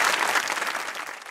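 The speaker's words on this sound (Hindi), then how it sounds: "तालियों से आगे बढ़े। तालियां आगे चले।" A studio audience at a Pakistani comedy talk show applauds steadily, a dense wash of clapping that thins slightly toward the end of the brief burst.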